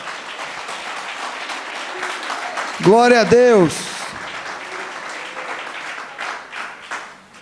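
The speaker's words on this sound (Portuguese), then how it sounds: "Pode aplaudir, queridos." A church congregation applauds in a loud, dense patter while a voice calls out briefly over the clapping, and speech continues around it.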